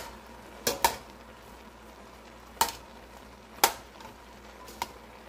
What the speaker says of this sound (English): stir it around and let that simmer too